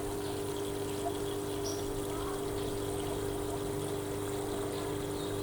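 Strong water flow rushing from the first hose of a large pump feeding a vertical hydroponic installation, a steady low gushing hiss with a constant hum underneath, fairly faint and unbroken.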